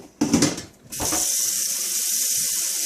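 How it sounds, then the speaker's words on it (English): Clunks of a pot being set down and handled, then a tap runs into it with a steady, bright rush of water; the pot is being filled to soak hard bread for fish and brewis. "So we're going to fill it up with water."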